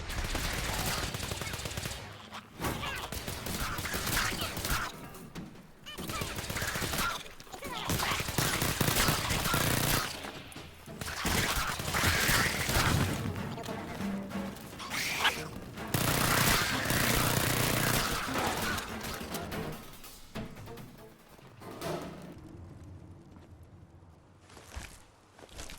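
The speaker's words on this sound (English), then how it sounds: "let the battle begin, as quite a lot of shooting goes down, and quite a lot of ghouls pass on to the next life" Dense, sustained gunfire with rapid bursts and heavy shots fills a battle against ghouls in Fallout 4 on Survival difficulty, with brief lulls before tapering off near the end.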